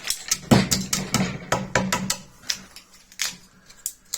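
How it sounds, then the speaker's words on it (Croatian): A series of sharp taps and knocks of a hammer on a wooden beam, irregular in rhythm, close and fairly loud, with no voices. "čekićem to malo razmaknemo"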